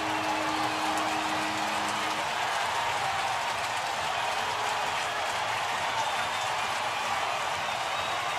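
After Barry Bonds' 700th home run, a baseball stadium crowd roars in a sustained, loud, dense wash of cheering and applause that holds steady throughout, with no clear speech above it.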